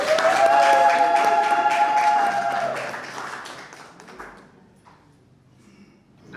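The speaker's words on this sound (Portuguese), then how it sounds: "Uma salva de palmas para ele." Applause from guests in the hall at a civil wedding ceremony, a dense burst of clapping that holds for a couple of seconds and then fades away to near quiet.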